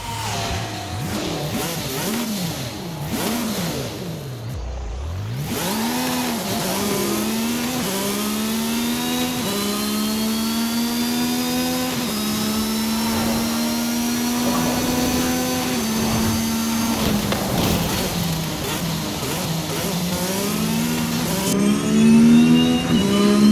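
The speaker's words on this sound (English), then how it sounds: "another fan favourite that people wanted to see, the Aston Martin Valhalla concept car." An Aston Martin Valhalla concept car revs its engine in the racing game Forza Horizon 5, the pitch sweeping up and down through gear changes and climbing steadily in a loud, continuous drive with no talk over it.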